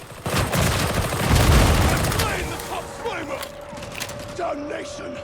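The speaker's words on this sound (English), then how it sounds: "They are shooting at us!" Video game gunfire comes as a dense roar of overlapping shots that swells and then fades, followed by scattered creaks and whistling sounds, while a voice talks over the action.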